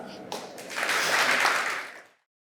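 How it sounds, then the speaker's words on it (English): Warm audience applause at an Ars Electronica symposium in Linz swells into a broad, steady wash of clapping, peaks, then fades out abruptly into silence. "Please give a very warm applause."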